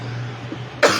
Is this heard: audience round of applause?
no